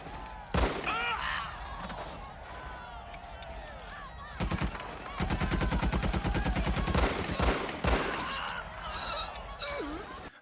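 Film battle scene with an attack on a base: bursts of rapid gunfire and single shots rattle loudly between shouted voices, with the heaviest sustained volley in the middle.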